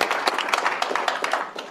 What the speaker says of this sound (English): So if you just give them a round of applause.